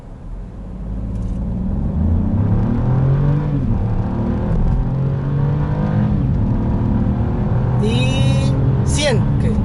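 A 2025 Mini Countryman with a three-cylinder engine launches hard in Go-Kart mode, its engine rising in a strong, steady surge heard from inside the cabin. Gear shifts show as brief dips, and someone talks over the engine.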